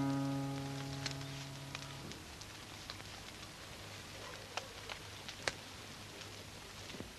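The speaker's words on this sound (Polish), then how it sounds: "Deszcz pada" Steady rain patters on a surface, with scattered louder drops ticking through the wash; a low tone hums underneath at first, then fades.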